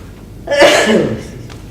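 A single loud sneeze bursts out close by, a sharp breathy explosion trailing off into a short exhale.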